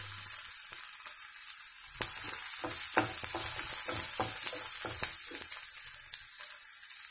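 Homemade ginger garlic paste sizzles and fries steadily in a pan for an Indian capsicum masala kurma, with the crackle close and constant and a few soft stirring scrapes and taps, no voices.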